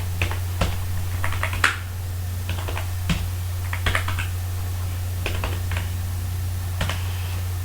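Keystrokes on a computer keyboard entering data into an Excel cell, a loose run of clicky taps in uneven bursts over a steady low electrical hum, with no speech.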